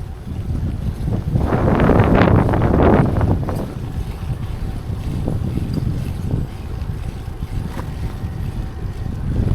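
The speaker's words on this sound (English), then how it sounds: "I'm sorry about the wind, people." Wind buffets the microphone of a cyclist riding along an open road: a loud rushing gust swells early on, then eases into a steadier, lower roar, with no talking.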